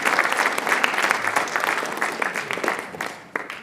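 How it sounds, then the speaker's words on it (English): An audience at a Writers Expo event claps in sustained applause from many hands, loud and steady before gradually thinning out. "So let's give especially Mr. Tooley a round of applause"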